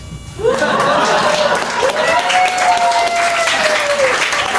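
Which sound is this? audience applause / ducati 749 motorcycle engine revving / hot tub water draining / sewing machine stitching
audience applause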